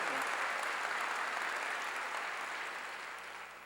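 A church congregation applauding during a sermon, a loud, dense burst of many hands clapping that fades gradually near the end.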